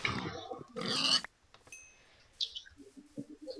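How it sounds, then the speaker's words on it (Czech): Pig grunts and oinks from Minecraft survival gameplay, a couple of short bursts early then quieter scattered grunts, with faint bird-like chirps in the background. "Prasátko, pojď."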